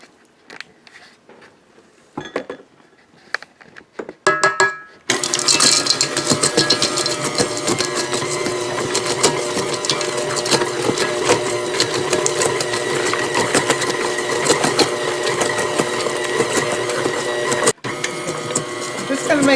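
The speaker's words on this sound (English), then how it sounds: "let's close up the mixer here and mix this up." KitchenAid stand mixer beating chunky banana chocolate chip nut bread batter, starting with a few clicks and handling noises before the motor kicks in around five seconds and runs steadily and loudly to the end.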